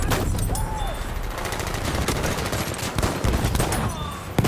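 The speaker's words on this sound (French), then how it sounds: "Attention, mitrailleuse." In the WWI video game Verdun, machine-gun and rifle fire crackles from several directions in a dense, continuous battle soundscape, with rapid bursts and louder close shots.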